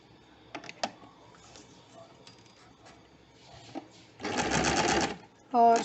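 Sewing machine stitching along the V-shaped placket edge of a men's kurta, a short loud whirring run near the end with faint clicks and handling noise before it.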